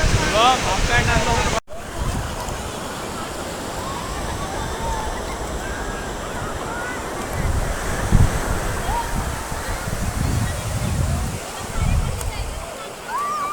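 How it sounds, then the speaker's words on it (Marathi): Ocean waves at a beach near Somnath roll in as a continuous rushing surf with gusts of wind across the microphone, while people talk over it. "लाटा लय जोरात येते"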